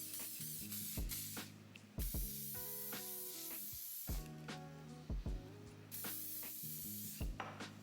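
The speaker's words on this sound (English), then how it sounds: "I like to go ahead and spray the hairline with some hairspray and just brush everything back" Several short hissing bursts of hairspray aimed at the hairline of a wig being prepped for knot bleaching, spaced irregularly over steady background music.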